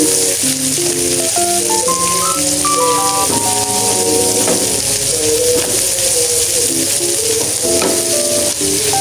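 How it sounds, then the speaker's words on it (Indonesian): Shallots, garlic and chilies are stir-fried in a pan, sizzling loudly and continuously close by while a spatula scrapes and taps through the hiss. Music plays underneath, and no one speaks. "Di sini tuh aku oseng-oseng dulu untuk bawang merah, bawang putih dan juga cabenya."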